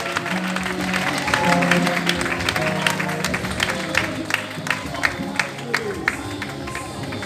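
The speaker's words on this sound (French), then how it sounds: "Acclame fortement le Seigneur." A large crowd at an outdoor youth crusade breaks into sustained applause and cheering for the Lord, a dense wash of clapping with sharper claps poking through and a steady musical tone humming underneath.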